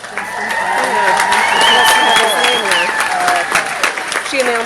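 Audience at a training talk clapping and cheering in a steady, loud wash of applause that lasts throughout, with voices and whoops mixed in.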